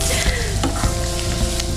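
Chopped onions sautéing in a pan for pasta, a loud close sizzle with quick stirring scrapes and clinks against the pan over a brief moment.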